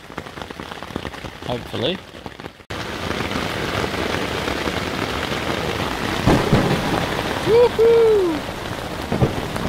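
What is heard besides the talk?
heavy rain and thunder on a tent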